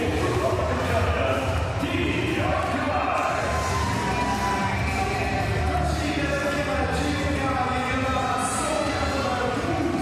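A crowd in an arena at the Paris 2024 Paralympic powerlifting competition cheers and roars continuously and loudly throughout, a dense wash of voices with a commentator talking over it.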